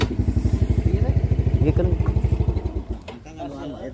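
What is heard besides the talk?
motorcycle engine running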